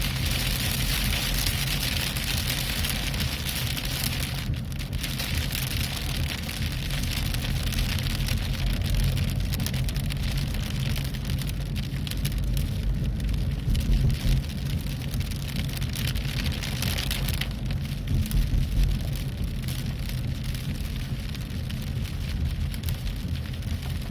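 Heavy rain pounding a car during a storm in a traffic jam, a dense, continuous hiss and drumming that stays loud throughout with no voices.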